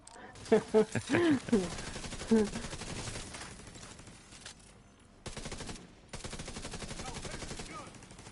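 A mounted gun fires in The Division 2, heard as bursts of gunfire that come and go under frequent excited talk from players.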